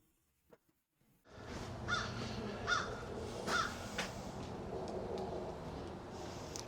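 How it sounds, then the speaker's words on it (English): Crows caw outdoors: three distinct caws at a steady pace over a constant bed of broad ambient noise, with no talk. "Crows."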